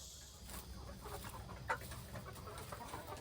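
Caged hens clucking faintly in a quiet outdoor setting, a few soft scattered clucks over low background noise, with one slightly louder call near the middle.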